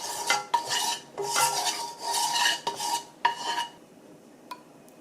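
Perilla seeds are stirred in an oiled wok with a utensil, making loud close rhythmic metallic scraping strokes in bursts that stop near the end, then a single faint tap.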